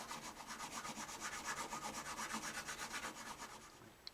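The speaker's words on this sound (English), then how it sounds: "Let me do the refined grit file." A fine-grit file rasps on the nut of a Martin D-15 acoustic guitar in quick, even back-and-forth strokes. The sound is soft, close and steady, with no voices.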